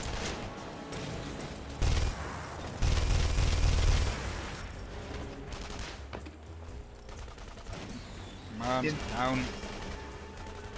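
Bursts of video game gunfire in The Saboteur crackle and thump in uneven volleys, loud and heavy at times, with a player's voice briefly speaking over the chaos.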